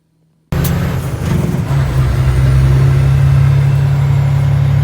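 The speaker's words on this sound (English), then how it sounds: "Sitting here in the dump truck with Cooter." A 1999 dump truck's engine starts up abruptly after silence and settles into a loud, close, steady idle, a deep continuous rumble with a low drone that grows slightly steadier over several seconds.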